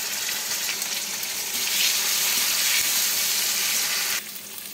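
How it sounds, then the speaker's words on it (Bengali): Potatoes frying in oil with black cumin and a little turmeric give a steady, loud hiss of sizzling that swells in the middle, then drops suddenly to a quieter sizzle near the end, with no voices. "দেবো কেটে রাখা আলু, অল্প হলুদ দিয়ে আলুটা ভেজে নেব।"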